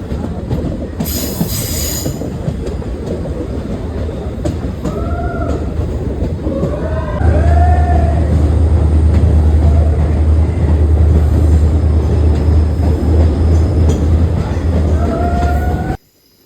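A train rumbles loudly through a tunnel just after crossing a bridge, a dense steady roar with intermittent wheel squeals, the low drone deepening midway before cutting off abruptly at the end.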